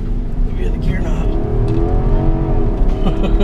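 A 2015 Infiniti QX80 Limited engine pulls hard on a track while shifted manually into second gear, a loud close drone with rising pitch as someone talks over it.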